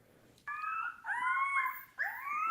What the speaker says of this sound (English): Tonight, a howl